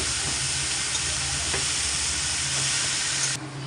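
Boiled banana blossom frying in a pan for a vegetarian curry gives a steady, close, loud sizzle with stirring throughout, cutting off sharply at the end.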